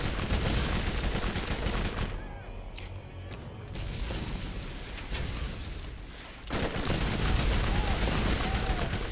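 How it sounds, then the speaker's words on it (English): Explosive SMG fire in the Borderlands game, loud dense bursts of rapid shots with blasts, pausing briefly mid-clip before another sustained volley near the end. "here's an explosive SMG"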